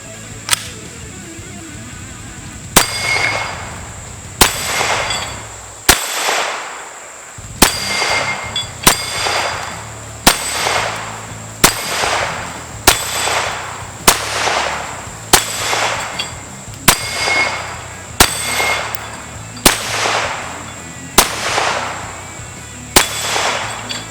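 An Extar EP9 pistol fires CCI aluminum-cased ammunition from a 15-round KCI magazine, about fifteen sharp, ringing shots in a steady spaced rhythm, close and loud with no talking.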